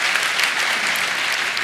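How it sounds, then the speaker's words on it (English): An audience applauding in a church service, a dense, steady wash of many hands clapping at full volume for a short burst, with no voices over it. "You can clap for that if you want."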